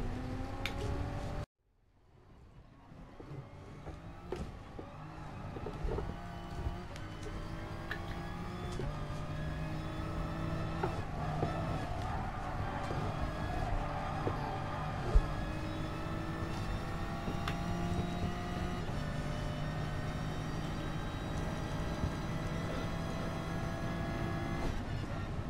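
Toyota race car in the video game GT Sport, either the GR Supra Racing Concept or the FT-1 Vision GT, on a fast lap. A loud engine drone climbs steadily in pitch through the gears and keeps running continuously after a brief cut near the start.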